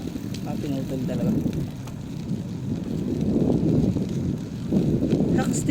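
Strong wind gusting through a street at night during rain, a steady broadband roar that swells and eases over several seconds, with someone talking throughout.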